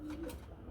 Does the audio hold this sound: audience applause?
no